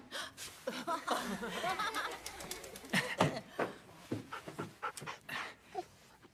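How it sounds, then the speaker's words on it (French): A mixed-breed dog pants rapidly and audibly at close range, with small snuffles and light movement noises mixed in and no talk. "je vous présente Harley, mon chien"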